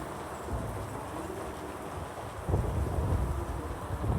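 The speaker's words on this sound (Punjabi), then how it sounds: "ਦੇਖੋ ਇੰਨੀ ਤੇਜ਼ ਬਾਰਿਸ਼" Heavy rain pours down outdoors as a dense, hissing wash with low rumbling. It grows noticeably louder and rougher about halfway through and stays steady with no talking.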